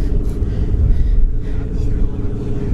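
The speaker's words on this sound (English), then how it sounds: "This is a Toyota Soar 1JZ, and it's got a big single turbo. This thing sounds nasty." A Toyota Soarer with a 1JZ engine and a big single turbo rumbles close by at a car meet in Japan, a loud, deep, steady idle with a choppy low burble.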